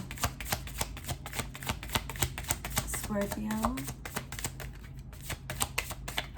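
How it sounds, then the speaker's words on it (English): Tarot cards being shuffled in quick, crisp riffling bursts, close and steady throughout, with a voice speaking briefly over the rustle. "One more good shuffle and then we'll get right into it."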